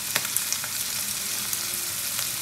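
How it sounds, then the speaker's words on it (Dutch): Dried fish fries in a pan for Surinamese bean sprout tjapar, with a steady close sizzle and scattered sharp spatters and pops throughout. "Maar als ik de vis ga bakken, dan zet ik alvast de zout, want anders gaat het spetteren"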